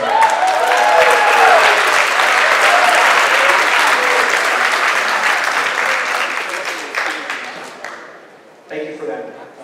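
A packed community meeting crowd gives loud, sustained applause during a wildfire evacuation update, swelling with scattered voices before tapering off, with a brief burst of speech near the end.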